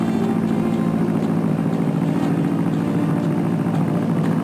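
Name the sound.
old plane engine in the Spy Fox video game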